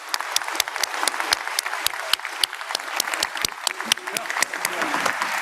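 Conference audience applauding a panel of speakers at a computing research plenary, a dense, steady clapping with sharp individual claps throughout, moderately close and sustained.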